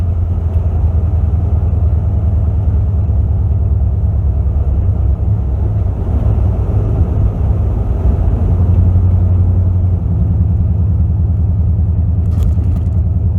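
A 2001 Ford E350 Super Duty van cruising in overdrive at light throttle with a window open gives a loud, steady low engine rumble with road drone, unbroken throughout.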